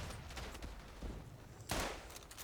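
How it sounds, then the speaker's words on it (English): Rifle fire in the World War I video game Tannenberg, with scattered distant cracks over a noisy battlefield backdrop and one louder, closer shot near the end. "Looks like this is a good spot for some flanking fire."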